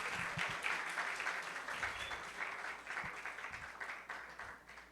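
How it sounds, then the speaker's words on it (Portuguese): Church audience at a youth gathering breaks into sustained applause, a dense, steady wash of many hands clapping that stays fairly distant and even throughout, with no clear talk. "Palmas, palmas, palmas."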